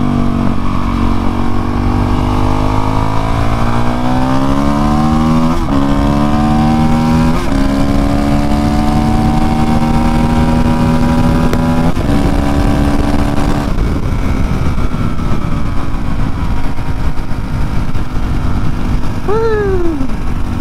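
A Honda CRF450L supermoto motorcycle revs up loud and close through several rising gear shifts, its engine note climbing and dropping in steady steps, with wind rushing throughout and no talk.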